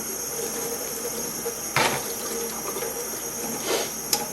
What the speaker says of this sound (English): after you scrub it, you just use your faucet and rinse all the water